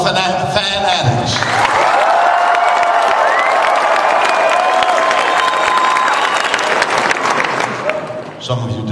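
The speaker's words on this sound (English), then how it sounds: "Some of you didn't stop clapping the moment I" A large convention audience at a fan expo applauds and cheers loudly, with whoops and shouts rising over sustained clapping that fills nearly the whole stretch before tapering off at the end.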